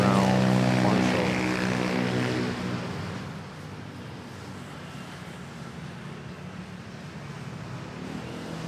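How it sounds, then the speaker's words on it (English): A propeller airliner taxis to the gate at Manila Airport, its engine drone loud at first and then easing to a steady, quieter hum as it rolls past. "Aviation making its way to the gate, directed by the paddle boy."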